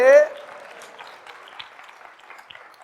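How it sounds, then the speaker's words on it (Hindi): Congregation clapping at a Hindi-language Bible study session on the Book of Hebrews, a brief spattering of applause that fades after a short shouted voice at the start. "ताली बजाकर बोलिए प्रभु यीशु मसीह की"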